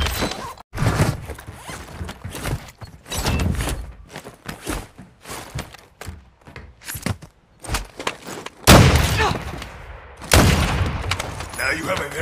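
Gunfire bursts and heavy booms in a Call of Duty Modern Warfare 2 battle, loud sharp cracks scattered across the whole stretch with footsteps, radio-style game voices talking over the combat.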